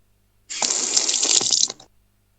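Water gushes from a tap for about a second and a half, a bright splashing rush that starts abruptly and cuts off, close and loud against an otherwise quiet room.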